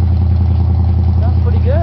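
A 1970s Cadillac demolition derby car idles with a deep, steady engine rumble through its muffler, loud and close, while someone talks over it.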